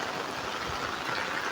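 Rainwater rushes along steadily during heavy rain, a continuous, even, hissing wash of flowing water heard up close with no voices.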